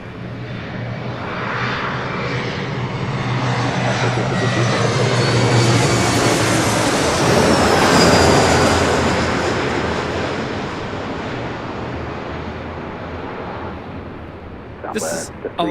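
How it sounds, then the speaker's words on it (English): A Southwest Airlines Boeing 737-700 takes off at LAX bound for Phoenix, its jet roar swelling to a loud peak mid-clip and then slowly fading into the distance, while a voice talks over it. "This is Southwest Airlines 1863 taking off to Phoenix on a"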